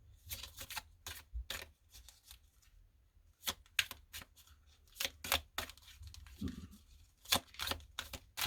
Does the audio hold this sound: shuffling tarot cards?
yes